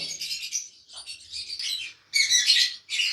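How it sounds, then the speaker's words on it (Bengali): Lovebirds and cockatiels chirp and chatter busily in a dense, high-pitched chorus, nearly continuous with brief pauses. "আমার কাছে প্রচুর পরিমাণে লাভবার্ড ককাটেল এবং অন্যান্য মিউটিশনের পাখি আছে"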